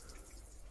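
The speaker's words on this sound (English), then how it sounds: "out comes the watering can" Water from a watering can pours steadily over garden furniture being rinsed after spring cleaning, a continuous close splashing trickle with no pause.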